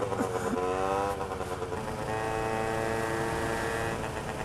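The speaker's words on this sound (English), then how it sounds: "If RJ was to get a moped, this is what it would sound like." A small moped engine rides past on a London street, giving a buzzing, nasal drone that stays fairly quiet and shifts pitch as it goes by.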